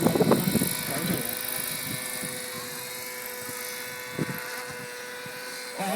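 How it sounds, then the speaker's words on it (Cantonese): A model aircraft drone flies overhead for aerial photography at a model aviation carnival, making a steady, buzzing propeller whine throughout, with a few brief bumps of noise near the start. "用一個模型飛機嚟做一個空中攝影"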